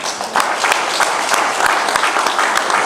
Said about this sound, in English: I think the round of applause should go to Oakland West.